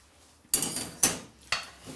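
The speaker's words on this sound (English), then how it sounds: "now all I'm going to do is upend the whole of this rice pan" A pan of rice being upended, giving three sharp metallic clanks of the pan knocking against a surface at roughly half-second intervals, each ringing briefly before fading, close and fairly loud.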